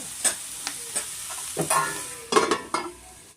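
Mushrooms for pepper mushroom rice fry on a medium flame in a pan, with a soft sizzle under close, irregular stirring scrapes and clicks.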